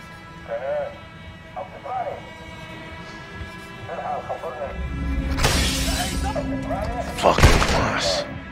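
Glass shatters loudly in Modern Warfare 2 gameplay, a sharp crash with scattering shards around the middle of the clip and a second smash near the end, set against a low rumbling game ambience.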